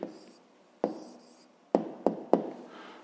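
A pen writing down a math answer on paper in a 5th-grade lesson: soft scratchy strokes punctuated by several sharp taps, close and quiet, with no talk.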